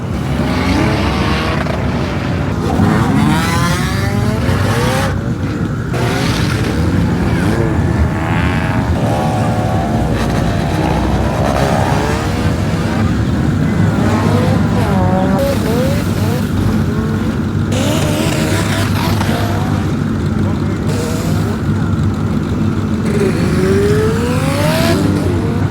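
Drag racing cars, including Nissan GT-R R35s, at a Malaysian drag race: loud continuous engine roar and revving throughout, with crowd noise mixed in.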